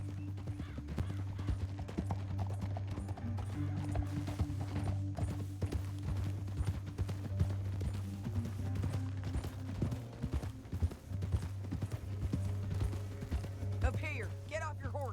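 Horse hooves clip-clop steadily through a Red Dead Redemption 2 game scene, a continuous trotting rhythm under a low musical drone and game ambience, with a brief whinny-like sound near the end.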